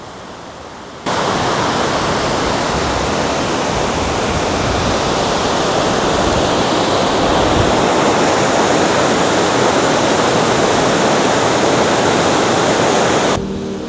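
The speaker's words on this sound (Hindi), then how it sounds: "ये वो सेम नदी है जो वहाँ से आ रही थी।" Loud, constant roar of a river rushing near a bridge in a rural Himalayan village, a dense wall of water noise filling the scene with no voices.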